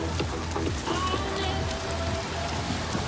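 Rain falls steadily on hard surfaces outdoors along the Bosphorus waterfront, a dense constant patter of drops with scattered louder splashes, no one speaking.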